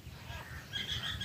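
Sparrows chirp faintly in the distance, a few quick high twitters clustering in the later part over a low, quiet background.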